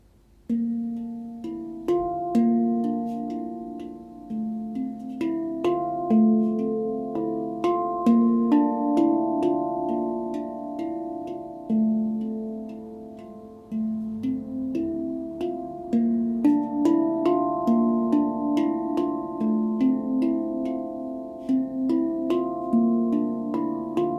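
Soft, ringing handpan notes are struck gently in a flowing melody, each tone blooming and sustaining, the volume swelling and easing slightly throughout.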